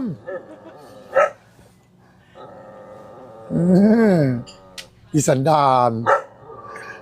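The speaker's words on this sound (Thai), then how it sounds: "เห่าแบบไม่มองหน้านะจ๊ะ" Dogs bark repeatedly at close range in loud bursts, with a person talking in between and over the barking.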